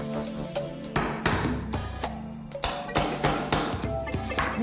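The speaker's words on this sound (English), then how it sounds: "I need to countersink these nails instead of bashing them in with a hammer" Nails being driven into wooden trim with a hammer, a series of sharp percussive knocks at irregular intervals, fairly close and clear, with some ringing between blows.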